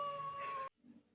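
A cat lets out a single loud, drawn-out meow after ice is placed on its paw, the cry ending abruptly and followed by faint low rustling.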